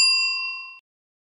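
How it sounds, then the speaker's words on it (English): A single clean notification bell ding rings out bright and close, then decays evenly for under a second before cutting to silence. "Hit the notification bell."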